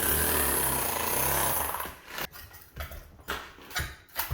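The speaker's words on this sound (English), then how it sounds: "you need to flip the rotary hammer drill upside down" A rotary hammer drill chisels up floor tiles along the grout line, with a continuous loud hammering roar followed by a run of separate heavy impacts and cracks as tile pieces break loose.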